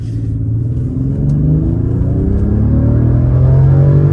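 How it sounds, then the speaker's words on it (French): A large car accelerates with a steady, loud engine rumble that rises gradually in pitch, heard close and alone without voices. "Cette voiture me fait penser à GMK, en fait. Tu sais, elle est très grande"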